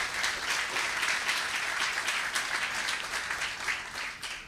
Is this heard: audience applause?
yes